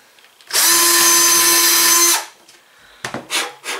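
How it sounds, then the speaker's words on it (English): A power drill fitted with a 1/16 bit drills holes beside model railroad rails, one steady high-pitched whine lasting about a second and a half, followed by a few brief scraping and rubbing sounds. "1/16 with a 1/16 drill bit on it, which I'm going to basically drill 2 holes on the outside of the rails."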